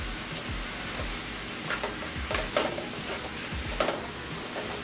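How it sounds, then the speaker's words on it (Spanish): Chicken and broccoli sauté in a pan with a soft, steady sizzle, broken by a few brief scrapes and knocks as the food is stirred, fairly quiet and close, with no talking. "Solamente lo voy a sofreír esto por alrededor de unos 3 minutos más y listo"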